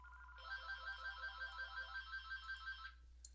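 A mobile phone ringtone plays during an online poker session, a melodic electronic trill that repeats in quick pulses for about two and a half seconds, faint and somewhat distant over a low steady hum, then stops, with no voices.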